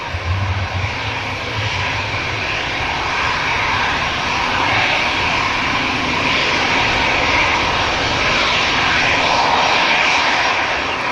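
A jet airliner bound for Amsterdam departs Manchester Airport, its engines a loud, sustained roar with a broad rushing hiss that holds steady and strong throughout, close by and alone.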